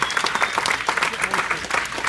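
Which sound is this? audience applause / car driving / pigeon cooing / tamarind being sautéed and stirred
audience applause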